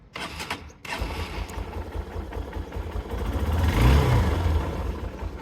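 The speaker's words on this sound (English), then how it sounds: "This is the original exhaust note of Hero Impulse." Stock exhaust note of a restored Hero Impulse motorcycle, a steady low engine rumble that builds into a louder rev near the middle and then settles, heard alone with no talk.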